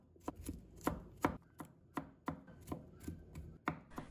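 A knife chops garlic on a cutting board in a home kitchen, about a dozen crisp, fairly regular thuds, close and clear, with no voices.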